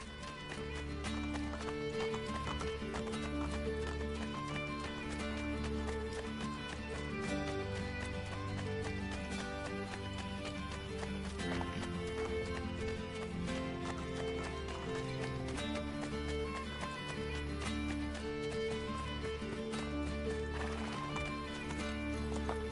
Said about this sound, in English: I can no longer keep up with the horses.